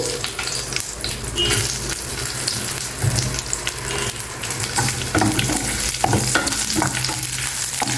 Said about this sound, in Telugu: ఇవి చక్కగా వేయించేసేయండి నూనెలో